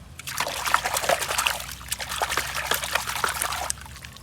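Water trickles and pours in a steady stream with small splashes while a toy sand truck is being cleaned. The sound is close and continuous for a few seconds, with no talking.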